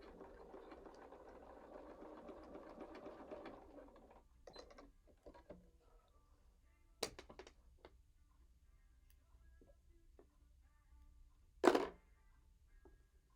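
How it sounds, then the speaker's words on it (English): A sewing machine runs a straight stitch across a coiled rope bowl, a steady low mechanical whir for about four seconds, then a few faint clicks and one sharp knock near the end in an otherwise quiet room. "I just do one straight stitch right across just to hold it."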